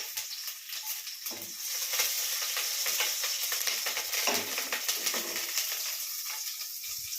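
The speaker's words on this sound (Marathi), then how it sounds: "आता मी टाकतोय मिरच्या. मिरच्या गेल्या आहेत तेलामध्ये." Green chillies sizzle and crackle in hot oil with cumin and mustard seeds for a poha breakfast, a steady close hiss peppered with small pops and a few spoon scrapes, no voices.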